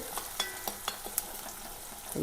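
Chopped onion, green chili and garlic frying in a pan, a soft sizzle punctuated by repeated light scrapes and stirring taps of a spatula, fairly quiet and without voices.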